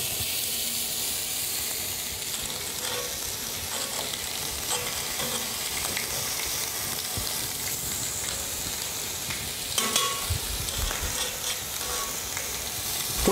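Tilapia with tomato and onion sizzles steadily in a hot skillet, a loud continuous frying hiss with occasional crackles and stirring scrapes, and no voices.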